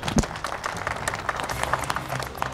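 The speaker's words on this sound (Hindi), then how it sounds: "इस पे तो तालियां बनती हैं" Studio audience on a talk show clapping, an uneven burst of hand claps from a small group opening with a sharp loud clap and continuing in irregular patters.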